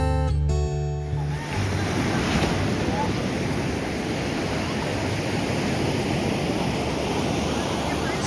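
Beach surf rolls in as a steady, dense wash of waves with wind buffeting the microphone, loud and continuous after a brief low rumble at the start.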